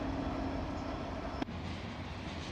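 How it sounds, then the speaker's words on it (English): A heavy coal train with helper locomotives rolls past, a steady low rumble of railcars with a faint tonal whine and a sharp brief clack partway through, no voices. "This coal train also has helpers on the end."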